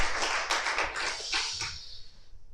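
A Korean church congregation clapping during a Sunday service, a brief burst of hands that swells quickly and then thins and fades over a couple of seconds.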